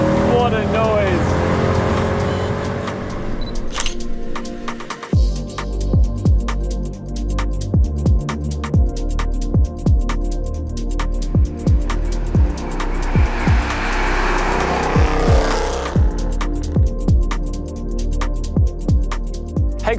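A Mercedes W204 C63 AMG with a naturally aspirated V8 revs loudly up close, rising and falling through repeated sharp throttle blips and gear changes with crackling pops on the overrun, and some talk comes in partway through.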